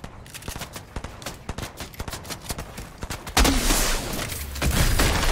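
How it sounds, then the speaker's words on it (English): Gunfire in Fortnite: rapid, evenly spaced shots ring out for about three seconds, then give way to a louder, denser burst of blasts and sustained roaring noise toward the end. "another one shooting at me"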